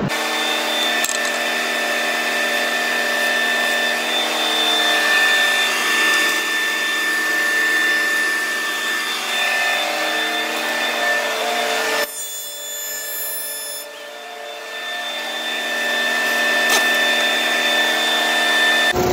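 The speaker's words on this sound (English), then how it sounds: "It's a template sander." A template sander runs near the mic with a steady, dense whirring rasp for nearly twenty seconds, briefly dipping and softening before picking back up.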